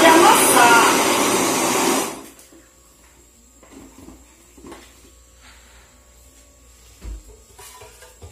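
A blender whirs loudly and steadily as it purées ripe bananas, then cuts off after about two seconds, leaving only quiet kitchen handling noises.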